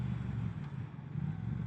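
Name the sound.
Triumph Thruxton 1200 motorcycle engine while riding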